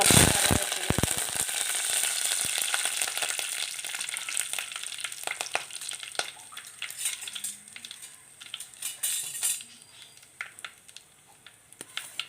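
Cut dried red chillies frying in hot oil with mustard seeds in a pan, a loud close crackle and spatter that starts sharp and gradually eases into softer sizzling, with no talk.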